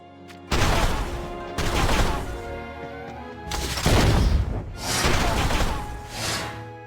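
Bursts of rapid gunfire and impacts from a War of the Visions: Final Fantasy Brave Exvius battle scene, loud and close, coming in several separate volleys with short gaps between them.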